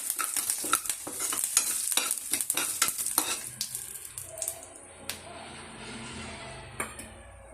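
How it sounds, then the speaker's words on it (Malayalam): Urad dal and curry leaves fry in a pan, giving a close, busy sizzle with quick stirring scrapes that is loud at first and then settles into a quieter crackle. "കരിവേപ്പില ചേർത്ത് കൊടുക്കാം എല്ലാം ചേർത്ത് നന്നായിട്ട് നമുക്ക് മൂപ്പിച്ചെടുക്കാം"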